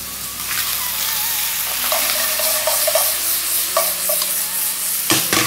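Green onions stir-fried with squid in a Chinese-style pan, giving a constant bright sizzle with light tossing and scraping clicks throughout, close and steady.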